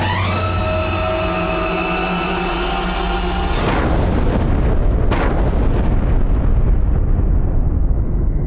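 A loud explosion from buried gunpowder bursts out over a steady low rumble, then a broad roar of blast noise and debris carries on to the end, with no talk.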